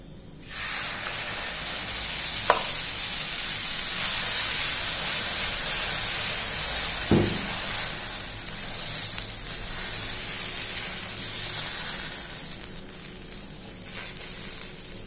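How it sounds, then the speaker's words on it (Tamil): Garlic dosa batter sizzles on a hot oiled dosa griddle, a steady loud hiss running nearly throughout with a couple of brief clicks and scrapes. "இப்போ நம்ம தோசை ஊற்றுவோம்"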